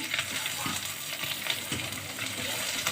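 Two large onions, sliced into strips, sizzle steadily in a hot pan for chicken fajita or shawarma. The even frying hiss carries soft stirring scrapes throughout.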